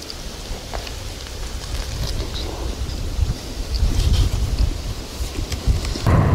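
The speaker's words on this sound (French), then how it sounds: "il y a beaucoup de vent" Strong wind buffets the microphone with a loud, low rumble and gusts that swell and surge on a wind-turbine ridge in the Doubs, Pays de Montbéliard, France, no voices present.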